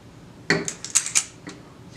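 Cookie dough for cream cheese chocolate chip cookies scooped with an oversized scoop, giving a few quick clacking and scraping knocks against a bowl, close by, with short quiet pauses between.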